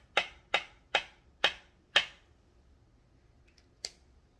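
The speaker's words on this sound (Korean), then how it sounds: "박수 한번 쳐야죠. 박수." Five sharp, evenly spaced hand claps ring out in a quiet room, followed after a pause by one last clap.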